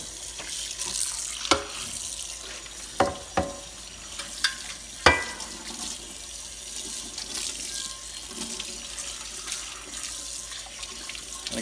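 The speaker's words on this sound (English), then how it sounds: "And then wash it with warm water." Warm tap water runs over a Field Company cast iron skillet being washed in a sink, a steady hiss of flowing water broken by a few sharp clinks and knocks of the pan, close and fairly quiet.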